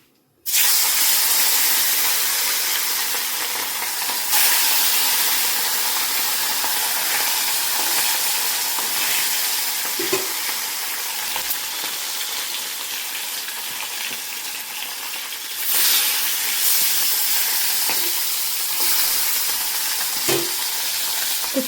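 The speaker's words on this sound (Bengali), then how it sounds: "তো চলো এদিকে মাছগুলো ভাজা হতে থাকে" Katla fish pieces frying in hot oil in a pan, a loud continuous sizzle with spattering that swells near the start and again later, no talking over it.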